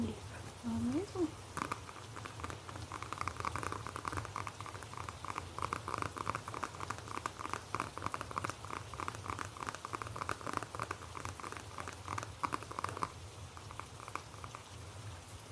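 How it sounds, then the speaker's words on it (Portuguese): Rain falling outside, a steady soft patter that continues throughout at low level behind a close, quiet speaking voice. "Hoje eu aproveitei que tá chovendo, eu espero que vocês consigam ouvir, porque eu adoro o ASMR com barulho de chuva"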